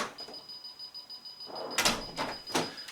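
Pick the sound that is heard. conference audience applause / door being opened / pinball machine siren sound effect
door being opened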